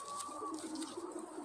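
Von der Wouwer line racing pigeons coo softly nearby in a brief, continuous low murmur.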